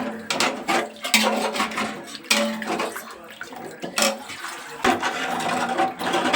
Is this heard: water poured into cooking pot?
yes